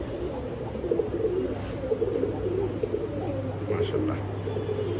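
Damascene highflyer pigeons coo in a loft, soft repeated throaty calls over a steady low background hum, fairly near but modest in volume.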